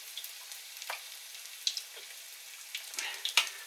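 Breaded corned beef cakes (Welsh rissoles) with spring onion frying on medium heat in a pan, quiet scattered crackles and pops over a faint sizzle.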